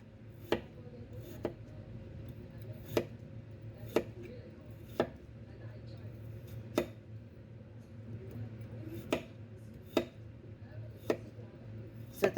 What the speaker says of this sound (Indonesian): kita potong-potong ini kentangnya